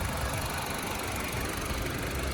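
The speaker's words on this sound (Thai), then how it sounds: "นี่ผมสตาร์ทเครื่องรถยนต์อยู่นะครับ ผมสตาร์ทเครื่องยนต์อยู่นะครับ" A used Honda Civic's engine runs steadily just after starting, a continuous close-up idle rumble with a faint rattling texture and no talking.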